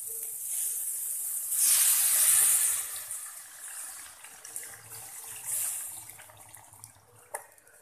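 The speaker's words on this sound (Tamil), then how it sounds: "இப்போது நம்ம புளி தண்ணிக்கு கரைச்சி இதில் ஊற்றிக்கலாம்." Tamarind water is poured into a hot pan of yam curry, producing a loud hissing sizzle that swells early on, then settles into softer bubbling and spitting with a small clink near the end.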